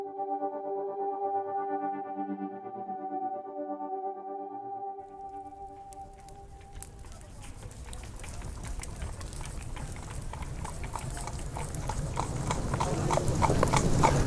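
Horse hooves clip-clop as a sound effect in a narrated horror tale, a rider spurring a swift livery horse toward a garrison. A steady galloping rhythm starts about halfway through, after a musical passage, and grows louder toward the end.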